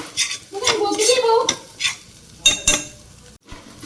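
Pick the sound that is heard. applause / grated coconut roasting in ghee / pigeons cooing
grated coconut roasting in ghee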